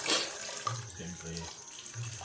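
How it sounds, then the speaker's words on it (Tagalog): Tap water running over fresh chili leaves from a garden as they are washed in a sink: a steady close splashing stream, with faint low voice-like murmurs mixed in. "hugasan po natin itong ating sili."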